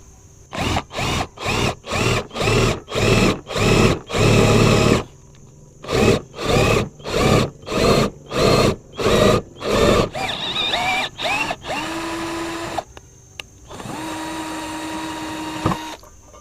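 A cordless drill driving an M10 tap whirs in a rapid series of short bursts, then runs in longer steady pulls, loud and close.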